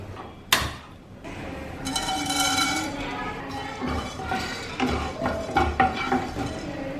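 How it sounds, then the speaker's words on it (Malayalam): Black pepper and fennel seeds dry-roasting in a pan without oil, with scraping stirs and light metallic clinks of a utensil against the pan; a sharp knock near the start, then steady close-up rattling and clinking throughout. "ഇത് രണ്ടും കൂടെ നമുക്ക് പാനിലിട്ടൊന്ന് വറുത്തെടുക്കാം"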